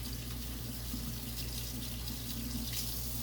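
A raw potato scrubbed with Dawn dish soap under a running kitchen tap, water splashing steadily and close into the sink throughout with no voices over it.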